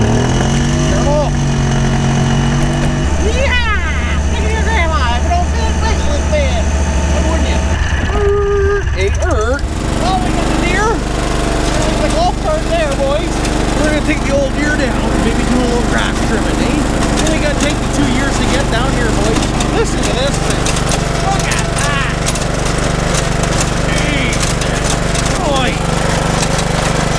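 A John Deere tractor engine runs with a continuous loud rumbling drone during preparations for a tractor pull, while people talk over it throughout.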